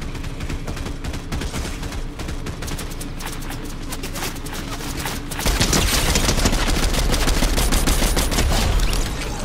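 Loud gunfire from a Fortnite match, steady bursts of rapid shots that grow heavier and denser partway through, with no talk over them.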